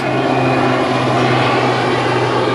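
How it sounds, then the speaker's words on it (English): A propeller airplane drones steadily overhead, a continuous low engine hum with a broad rushing wash that holds level and fairly loud throughout, with no voices over it. "a plane just flying around"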